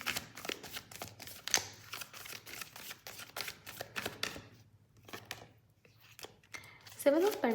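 Tarot cards are shuffled and handled in a quick run of crisp riffling flicks and soft slaps, close and fairly quiet, with a brief sharper clatter near the end.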